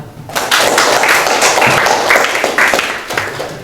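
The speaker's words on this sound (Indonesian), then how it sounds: "kita beri tepuk tangan ya" A high school classroom breaks into applause for students' batik work: dense, loud clapping starts abruptly and continues steadily, with a few voices mixed in.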